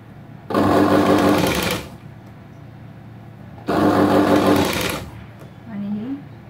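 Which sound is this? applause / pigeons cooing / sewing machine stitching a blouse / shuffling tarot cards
sewing machine stitching a blouse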